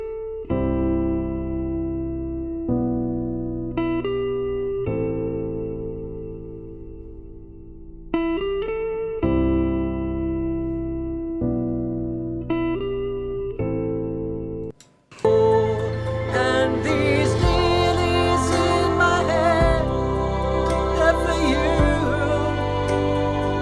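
A recorded multitrack song session plays back before mixing: a sparse, tonal instrumental line with clean note changes for about fifteen seconds, then a full, dense arrangement with distorted, effected instruments kicks in loudly.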